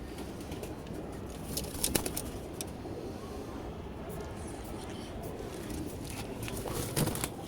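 Pigeons in a loft with many hens coo softly amid constant low rustling and scattered sharp ticks and flutters, the calls faint and blended into the busy background.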